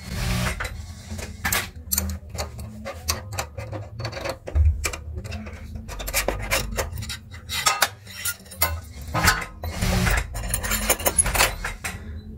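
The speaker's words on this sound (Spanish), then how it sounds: "Vamos a aflojar esta tuerca del pedal." A wrench loosens the pedal nut on a sewing machine motor base. Close, busy metallic clanks, taps and rattles come one after another with no talk.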